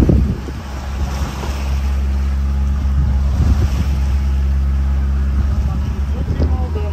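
Steady wind noise buffets the microphone aboard a sailboat in Greece's Cyclades near Katapola bay, with a low continuous engine-like rumble and water wash underneath, loud and constant throughout.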